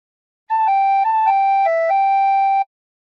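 A tin whistle plays a short, clean phrase of the Battle Hymn of the Republic, a few sustained, clear notes stepping up and down, played alone for about two seconds.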